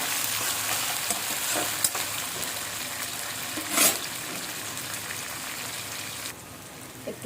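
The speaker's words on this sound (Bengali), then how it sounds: "কড়াই আমি তেল দিয়ে নিয়েছি। এবার কাঁচামরিচ আর পেঁয়াজ কুচিটা দিয়ে দিচ্ছি।" Green chillies and chopped onion hit hot oil in a wok and fry with a dense, crackling sizzle, a sharp burst of spattering midway, then the hiss settles and eases off near the end, close by with no talk.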